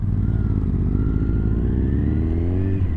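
A Kawasaki Z1000 motorcycle engine, a big-engined machine, revs steadily and loudly up close, its deep throbbing note rising gradually over about three seconds with no talking.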